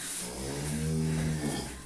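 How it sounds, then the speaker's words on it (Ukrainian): A cow lows in one long, steady moo on a farm, close and loud, with a deep harmonic tone held for nearly two seconds. "Мама почула, що корова мукає"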